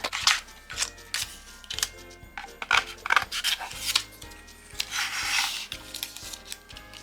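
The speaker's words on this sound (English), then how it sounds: "I just need to trim that down just a little bit." Scissors trimming a sheet of Cricut Joy transfer tape: a steady run of crisp snips and cuts, close up and alone, some snips sounding more papery and rubbing than others.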